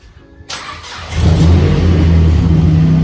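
A 2007 Mazdaspeed 6 cranks over after a brief quiet moment, catches, and settles into a loud, steady engine rumble close by, with the revs building as it runs.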